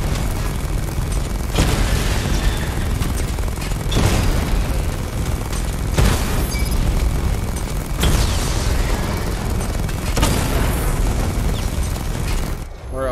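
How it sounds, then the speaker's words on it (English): Repeated loud booming explosions from a level 2 missile barrage fired from the Batmobile in Batman: Arkham Knight, with heavy blasts landing about every two seconds over a constant roar of battle. "Charge the missile barrage to level 2 to destroy up to 4 targets at once."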